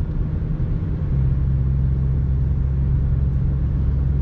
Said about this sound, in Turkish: Sadece rüzgar ve motor sesi hafif geliyor.